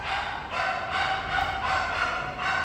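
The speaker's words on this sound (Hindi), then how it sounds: "पड़ोस के घर में ना कुत्ते के भौंकने की बहुत आवाज़ आ रही थी" A dog barks repeatedly at a neighbour's house in a steady run of yips and barks, moderately loud and without talking.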